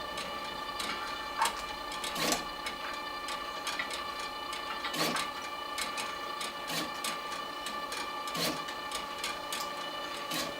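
A LAB500 label dispensing machine applying price labels to cardboard and paper products runs with a steady mechanical whir and sharp periodic clicks roughly every one to two seconds, fairly close and without talk.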